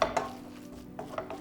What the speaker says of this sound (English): Mash it while you're mixing everything together